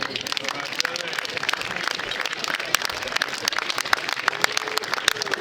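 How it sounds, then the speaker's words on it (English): Applause for an inductee at the 2022 Western Massachusetts Baseball Hall of Fame induction ceremony, a steady patter of many hands clapping across a room, sustained at an even level, with a voice talking over it. "Let's give Bill a big round of applause."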